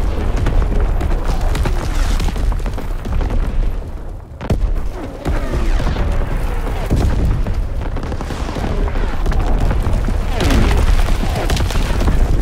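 An artillery battery fires in a WW2 video game: a dense run of heavy booms and crackling blasts rolls on almost continuously, briefly dipping near the middle before the barrage resumes at full loudness.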